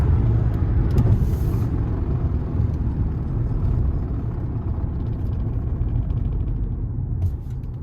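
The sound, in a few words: car driving at speed during brake test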